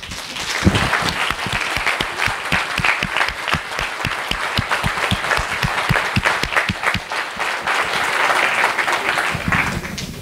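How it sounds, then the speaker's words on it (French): Audience applause at a doctoral graduation ceremony, a large room of steady, dense clapping that holds strong for about ten seconds and swells slightly near the end. "Et vous pouvez applaudir."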